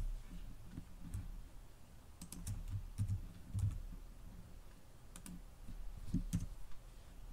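Keys tapped on a computer keyboard in irregular clusters of quick clicks, close by and fairly quiet over a low background hum.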